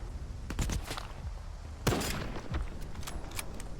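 Gunfire in the shooter S.T.A.L.K.E.R. 2: Heart of Chornobyl: sharp shots crack in irregular bursts, with a short cluster early, a loud report near the middle and scattered later shots, over faint background noise.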